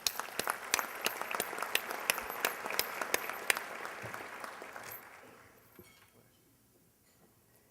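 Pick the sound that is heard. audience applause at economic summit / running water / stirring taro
audience applause at economic summit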